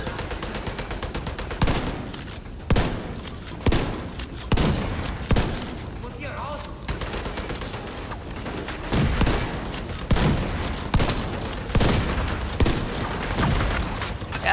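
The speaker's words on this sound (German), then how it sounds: "Schieß auf den Tank." Sustained heavy gunfire in the shooter The Division 2, aimed at a chemical tank during co-op play, with dense rapid shots and periodic louder bursts continuing throughout while players talk over it.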